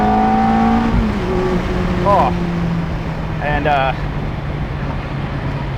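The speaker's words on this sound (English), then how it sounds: "when you floor it, there's a gap in between the shifts" A Ferrari F430 Spider or Lamborghini Gallardo Spyder supercar accelerating hard at full throttle with automated manual gearshifts. The engine note climbs steadily, with brief gaps at the shifts. A voice talks briefly over the loud engine.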